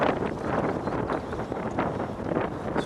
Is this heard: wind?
yes